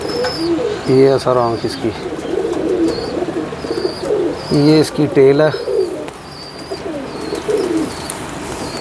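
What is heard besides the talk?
pigeon cooing while being handled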